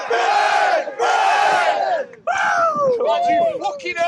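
A university American football squad, the Bangor Mud Dogs, roars hooray together after a hip-hip call: two loud massed shouts in quick succession, then a ragged third burst of mixed yells and whoops.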